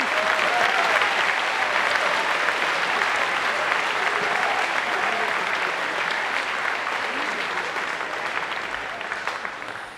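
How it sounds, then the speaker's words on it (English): A crowd applauds 8th graders at a middle school moving-on ceremony, with loud, sustained clapping that holds steady and then slowly tapers toward the end. "A round of applause for our 8th graders."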